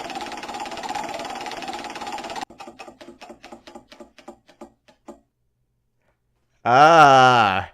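A prize wheel spins with rapid clicking that slows into evenly spaced ticks and stops, followed after a pause by a sustained tonal sound.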